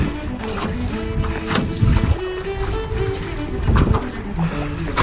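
Gusty wind on open water while paddling a canoe, a loud, close rushing roar that swells in bursts, with rumbling buffets against the microphone and faint tonal hum underneath.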